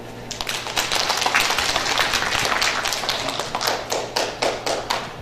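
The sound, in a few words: audience applause at a lecture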